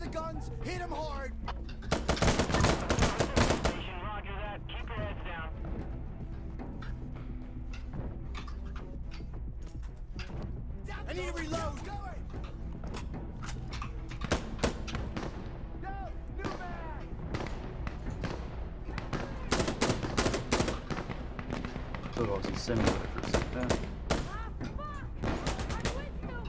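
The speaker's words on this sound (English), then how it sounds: "Fire the guns, hit him hard." Guns fire repeatedly in Insurgency: Sandstorm co-op play, with loud sharp shots and booming impacts scattered across a long stretch under ongoing talk from players.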